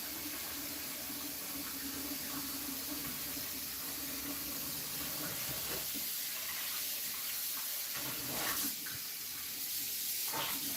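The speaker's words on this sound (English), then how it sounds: "It's good to run a little bit of hot water down your sink" Hot tap water runs steadily into a kitchen sink, a continuous close rush and splatter with a few louder splashes and no voices.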